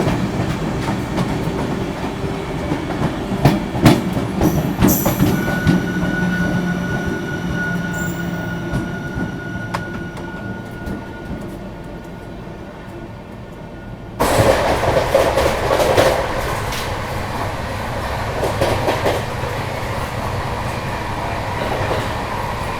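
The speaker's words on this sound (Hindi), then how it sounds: "अब आ रही है अपनी गोमती एक्सप्रेस लखनऊ न्यू दिल्ली" Gomti Express on the Lucknow–New Delhi line rumbling past at a crossing, a steady loud roar of wheels and cars with squealing and clickety-clack, swelling sharply midway as the train draws close, no talk.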